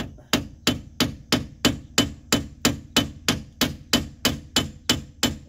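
A hammer strikes a front brake disc on a Pontiac Firebird, sixteen evenly spaced sharp metallic taps with short ringing decay, close and clear with no talking.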